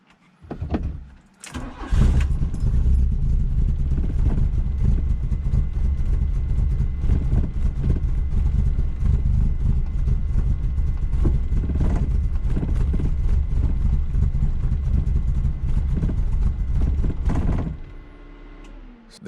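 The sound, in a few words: Mk1 VW engine struggling to hold idle on cold start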